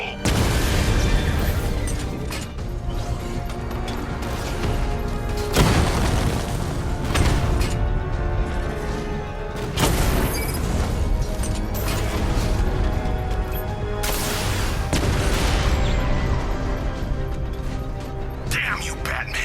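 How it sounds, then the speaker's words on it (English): A bomb's payload detonating in Batman: Arkham Knight, heard as a string of heavy, booming blasts about every four to five seconds over a dense, loud bed of game music and mechanical rumble. "The bomb's payload is exploded."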